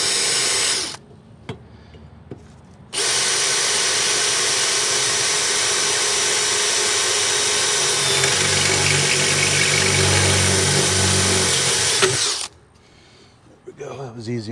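A hand drill with a Vortex step drill bit grinds through metal in one long, loud, continuous run of about ten seconds, with short quieter whirs before and after.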